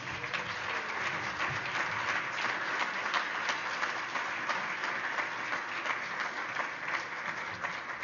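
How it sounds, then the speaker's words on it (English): Warm, sustained applause from a crowd at an E3 Africa 15th anniversary event in Phoenix, Arizona, welcoming Father Robert Aliunzi; an even, continuous wash of clapping at moderate level, slightly distant. "Please give a very warm, salt of the earth round of applause for Father Robert Aliunzi."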